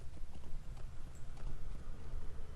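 Steady clip-clop of horse hooves from a mount in Lord of the Rings Online arriving at the stables in Thorin's Hall, a continuous trotting rhythm over a low ambient rumble.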